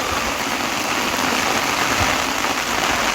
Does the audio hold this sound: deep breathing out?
no